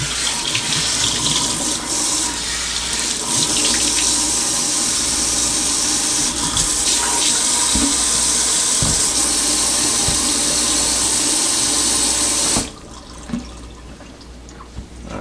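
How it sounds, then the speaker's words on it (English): A kitchen faucet runs steadily while an absorbent Scotch-Brite counter cloth is wrung out beneath it, giving a continuous splashing water stream with faint drips and squeezes, then the flow cuts off near the end. "Wring it out."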